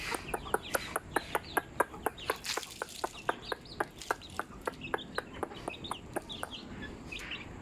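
Backyard chickens cluck in a rapid, steady series of sharp clicks close by, with scattered chirps and bird calls mixed in outdoors.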